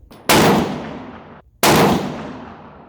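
Two sharp, loud rifle shots from a 6.5 Creedmoor RPR with a 24-inch Krieger barrel, about 1.3 seconds apart, each cracking hard and trailing off in a long decaying rumble outdoors.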